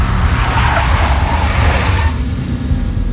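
Car tires skidding in the video game Max Payne, tied to a big black Mercedes, a loud sustained screech over rumbling engine noise that eases off toward the end.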